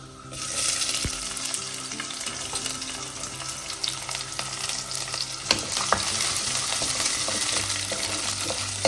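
Onions sizzle loudly in hot oil in a pan with burnt fenugreek seeds, cooking for a southern Kerala fish curry. The frying hiss runs continuously and close up, with a few clinks of stirring and no voices.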